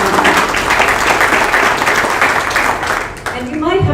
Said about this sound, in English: So one final round of applause.